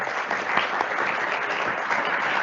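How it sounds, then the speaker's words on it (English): Councillors and attendees in a council chamber clap in sustained, dense applause that stays steady and fairly loud throughout, with no clear speech over it. "I think a round of applause would be."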